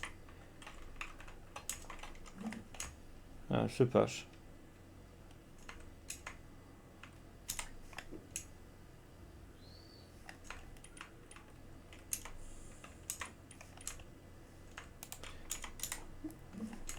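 Steady clicking of computer keyboard keys, close and continuous for the whole stretch, with a brief burst of louder clatter and a few quiet words.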